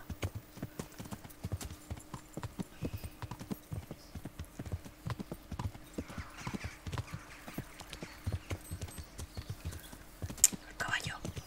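Clip-clop of horse hooves in the medieval video game Kingdom Come: Deliverance, a rapid uneven gallop of close hoofbeats running throughout, with a neigh and faint whispery voices mixed in.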